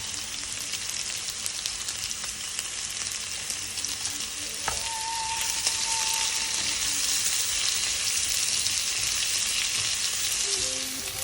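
Cucumbers and mixed vegetables for yaki udon sizzle steadily in a hot pan with a broad frying hiss, with occasional stirring clinks and a brief tonal ring midway, with no voices.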